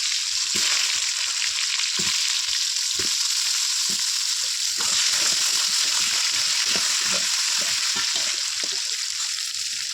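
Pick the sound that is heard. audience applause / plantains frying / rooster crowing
plantains frying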